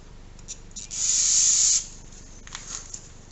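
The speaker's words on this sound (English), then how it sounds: "spray it with a little carb cleaner" A single hissing burst of aerosol carb cleaner sprayed onto a Ford 302 5.0 V8 piston, lasting under a second, close and fairly loud, with faint handling noises before and after.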